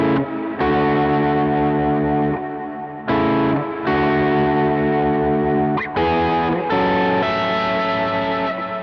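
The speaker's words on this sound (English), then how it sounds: "see it takes a while for that reverb to actually kick in." Distorted electric guitar chords ring out one after another, each sustained, with a wash of reverb blooming a moment after each strike.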